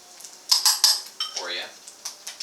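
Grits being spooned into a dish, with several light metallic clinks and scrapes of a spoon against the dish in a quick uneven run, close by and fairly quiet.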